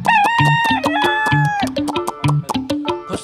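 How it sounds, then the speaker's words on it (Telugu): A rooster crows loudly and close by, several strident crows in succession mixed with a few short clucks. "నా నిద్ర అంతా ఖరాబ్ చేస్తుంది కోడి."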